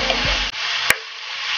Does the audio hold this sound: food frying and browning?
yes